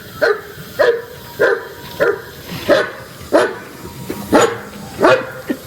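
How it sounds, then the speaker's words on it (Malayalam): A pedigree dog brought from Hyderabad barks eight times in an even, steady rhythm, each bark loud and fairly close, with quiet gaps between them. "ഹൈദരാബാദ് ഇത് മേടിച്ചോണ്ട് വന്ന മുന്തിയേനം പട്ടിയാണ്."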